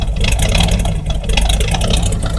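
An abandoned Dodge Power Wagon service truck engine idles steadily and loudly up close, a rough, continuous mechanical rumble with a slight uneven pulse and no voices over it.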